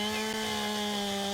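A chainsaw in Farming Simulator 19 drones steadily while cutting trees, with a continuous buzzing engine tone and no pauses across the whole stretch.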